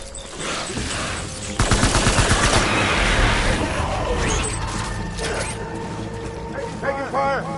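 Gunfire in Death Stranding, with a sudden burst of rapid mechanical shots and clattering starting partway through, dense and close, over a busy game soundscape with sharp chirping tones near the end.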